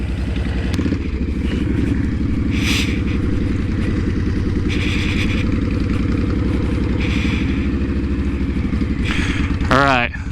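A 2010 Honda Fury chopper motorcycle engine runs steadily and loudly throughout, a deep continuous rumble close by, with a brief rising rev near the end.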